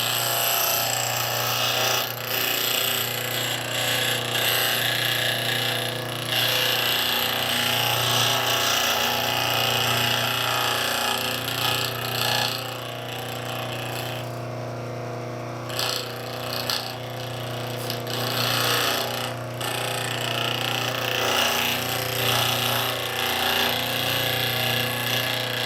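Steady, loud grinding of a wooden-bodied spokeshave blade being sharpened, a continuous harsh whir with a brief lighter dip midway, running unbroken without talk.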